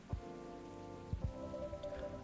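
Steady rain falls outside in the video game Coffee Talk, a soft continuous patter under a low background hum, with a few brief thumps and no talking.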